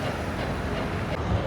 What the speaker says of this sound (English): Right, I'm back on the subway again